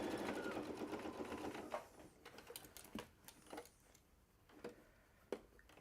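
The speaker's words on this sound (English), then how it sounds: "I'm just going to do a top stitch" A sewing machine top-stitching a bag runs in a fast, even whir for about two seconds, then stops and restarts in short stitching bursts mixed with clicks and taps, moderately close and fairly quiet.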